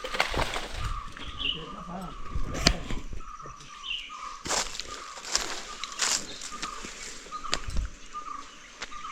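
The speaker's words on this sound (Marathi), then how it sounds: "पाखरांचा आवाज बघा किती येतो आहे" Birds, including doves, call and chirp at a distance by a Konkan village stream, mixed with a few sharp knocks and rustling footsteps nearby.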